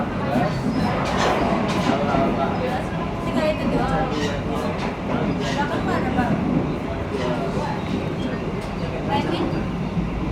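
A moving train rumbles steadily around the dining car, a continuous rolling din of wheels and carriage noise with clatter from the car itself. Voices carry on underneath throughout.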